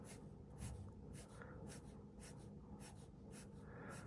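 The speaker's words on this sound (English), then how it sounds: "I haven't done hatching with pencil in so long" Pencil hatching on paper during a drawing lesson, soft scratchy strokes repeating in a steady rhythm, close and quiet with no talk.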